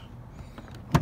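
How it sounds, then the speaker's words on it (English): A Ford Fusion car door opens: a quiet stretch with faint clicks, then a single short latch thump near the end. "Open the door."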